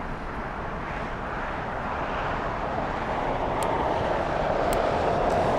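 A Qantas Boeing 787-9 Dreamliner arrives at LAX, its broad jet roar steady and gradually growing louder as it approaches, with no talk over it.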